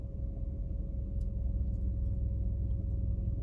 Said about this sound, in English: And there's traffic.